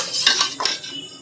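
Utensils scrape and clink against a bowl as food is mixed, several quick metallic strokes close by, then tapering off into quieter clatter.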